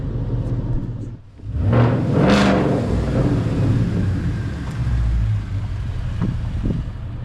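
A 2014 Ford Mustang GT Performance Pack engine, fitted with an aluminum three-row racing radiator, rumbles steadily up close, with a surge of revving as it pulls away down the street, then holds a low droning roar with wind buffeting.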